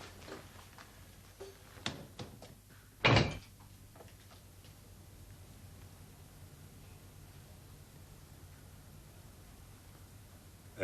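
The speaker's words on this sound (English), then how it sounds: "So I pull the blast door to." A heavy blast door swings shut with one loud, abrupt thud and clank, followed by a few faint knocks before and a quiet, steady hiss of background noise.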